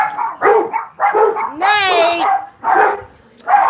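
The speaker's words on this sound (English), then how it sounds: "you know that you're getting the hound dogs all excited" Indoor hound dogs barking excitedly, a rapid run of loud close barks broken by one long rising howl, with a voice talking between them.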